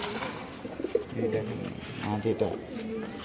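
Soft, low coos of domestic pigeons repeat a few times close by, with a voice talking over them and faint background noise.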